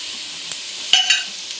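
Coriander and turmeric powder frying in a pan as they are stirred: a constant close sizzle marked by a few quick scraping ticks from the spoon, with no voices.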